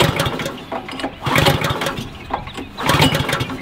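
Pull-start attempts on the small engine of an Allett C34 all-steel reel mower, heard as three bursts of rough engine noise that sputter briefly and die away between tries, close by with no talk.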